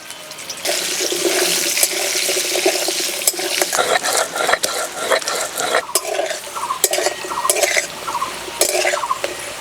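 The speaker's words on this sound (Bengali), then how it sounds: "মাছ ভাজা তেলেই আলু ভেজে নেব।" Potatoes frying in mustard oil left over from frying fish, stirred in a wok: steady sizzle under repeated scraping and clattering of a spatula, close and loud.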